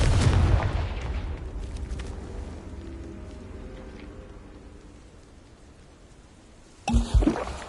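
A Confringo spell explodes in the Hogwarts Legacy video game: a loud booming blast up front that rumbles and fades over several seconds, followed near the end by a second sharp burst.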